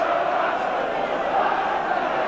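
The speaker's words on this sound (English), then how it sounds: "the cries of the Ipswich crowd much stronger than the Manchester United contingent" Ipswich Town football crowd roaring at a 1979/80 Division One match against Manchester United, a dense, sustained wash of massed voices and cries filling the stadium without a break.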